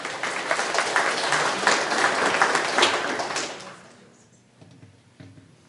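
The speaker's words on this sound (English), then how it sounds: "Big round of applause." An audience at a hypnosis show breaks into dense, lively applause that fills the room for several seconds, then fades quickly to near quiet with a few faint clatters.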